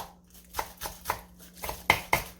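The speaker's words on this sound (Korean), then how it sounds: "쪽파 이렇게 썰어서 넣고요" A kitchen knife chops green onions on a cutting board, about eight crisp, evenly spaced knocks that grow slightly louder near the end, close up with no talking.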